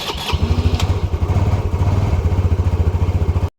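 An overhauled PGO Tigra 150 scooter engine runs on test, settling into a fast, steady, loud putter with a rhythmic low thump, close by, before cutting off abruptly.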